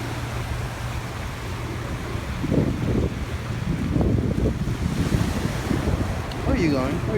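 Ocean waves wash along Coney Island beach with a steady surf rumble and gusty wind buffeting the microphone, the wash swelling in places, with faint voices near the end.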